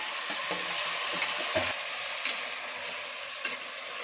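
Chopped tomato goes into a pan of browned onions for tomato rice, giving a soft continuous sizzle and fry with a few light stirring taps and clicks close by.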